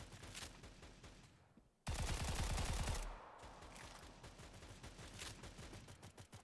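QBU rifle with a 60-round magazine in a video game, firing rapid sharp shots in dense bursts, a heavier louder volley in the middle, echoing and fairly close.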